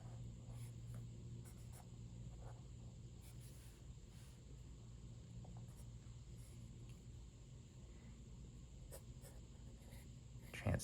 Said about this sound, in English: I'm just gonna sketch in this little diamond pattern here